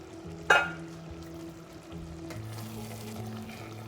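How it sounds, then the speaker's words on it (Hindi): Pizza sauce simmers in a pan on the stove, giving a faint sizzle with a brief clink near the start and soft stirring and bubbling throughout. "थोड़ी देर इसको और पकाएंगे ताकि कंसिस्टेंसी इसकी बेहतर हो जाए।"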